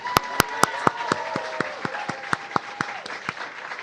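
An audience at a Samsung Solve for Tomorrow award event claps for teachers, with sharp close handclaps standing out over steady applause from the room while a tone sounds underneath.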